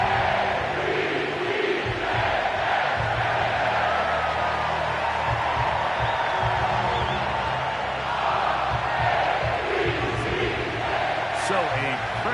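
Dense, steady roar of a football stadium crowd on its feet for a third-and-four play, a loud continuous wash of voices with occasional louder swells and a commentator talking over it.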